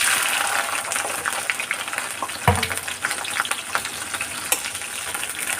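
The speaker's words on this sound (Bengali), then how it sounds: "এবার ক্যাপসিকামটা ভালো করে ভেজে নিতে হবে।" Chopped capsicum sizzles in hot oil with a bay leaf in a pan for paneer masala, giving a steady close crackle and hiss, with a sharp clatter of stirring midway.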